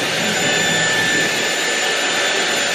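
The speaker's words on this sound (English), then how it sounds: "The first head that I use is the hair dryer attachment" A Dyson hair dryer attachment blowing on hair gives a steady, even, loud airflow whoosh with a faint high whine, close and unbroken from start to finish, with no voices.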